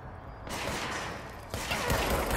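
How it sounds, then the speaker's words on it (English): Enemy gunfire in the video game Control, a dense roar of shots and impacts that starts abruptly about half a second in and swells again near the end, loud and sustained with no talking. "He's shooting at me now."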